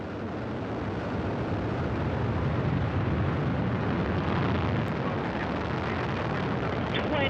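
Soyuz rocket boosters, four strap-ons plus a core engine, roar at liftoff with a dense, continuous rumbling blast that holds steady, heard from a distance.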